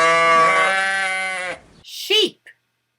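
A single long, loud sheep bleat wavers steadily for about a second and a half before a short spoken voice follows.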